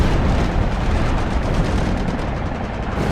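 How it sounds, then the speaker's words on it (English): A dive bomber's bomb bursts as a near miss beside the aircraft carrier Enterprise, a dense, roaring explosion blast that stays loud and sustained throughout with heavy rumbling and churning noise. "First bomb is a near miss."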